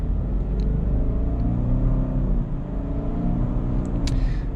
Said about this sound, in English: This car has some really nice acceleration